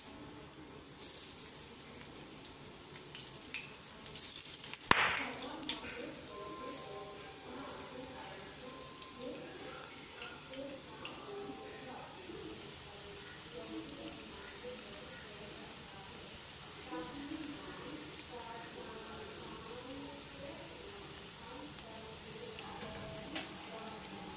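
Cauliflower pieces for baji go into hot oil in a home kitchen, giving a continuous bubbling sizzle and hiss throughout, with one sharp clink of a utensil early on.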